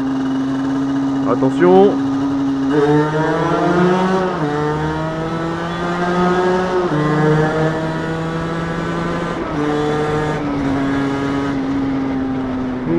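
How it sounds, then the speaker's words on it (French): A motorcycle fitted with a Yasuni R2 exhaust accelerates through a tunnel, its engine note rising in repeated climbing sweeps with gear changes, loud and close, with a brief spoken word near the start. "On va passer dans le tunnel qui est juste en face, je vais laisser un peu d'espace devant moi pour accélérer."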